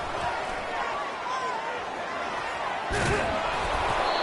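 A football player slammed to the ground in a video game: one sharp, heavy thud of impact about three seconds in, rising out of a continuous wash of stadium crowd noise.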